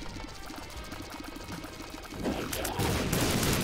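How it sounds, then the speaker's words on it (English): Explosions in The Binding of Isaac Afterbirth+ burst over the game's busy backdrop of rapid mechanical clatter, swelling into a loud, sustained blast of noise toward the end. "Wow, the explosions hit. And they hit hard."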